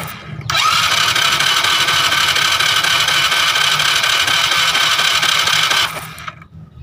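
A motorbike engine is started during a spark plug cap test. It catches quickly and runs at a loud, steady idle for about five seconds before cutting off, close up with no talk.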